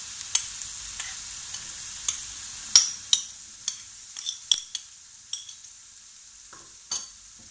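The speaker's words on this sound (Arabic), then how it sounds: "غادا نحرك ونخليه حتى يذوب." A spoon stirs hot milk and cheese in a pot, giving scattered sharp clinks and scrapes against the metal over a faint steady hiss.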